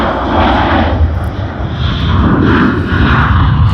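An airliner departs Sydney Airport, its engine roar loud and steady throughout, a broad continuous rumble with no talk over it.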